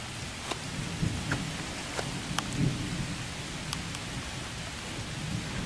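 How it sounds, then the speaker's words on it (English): Steady rain falls outdoors over an Iowa vegetable garden, a constant hiss with a low rumble underneath and a few scattered sharper drips or taps. "It's still raining."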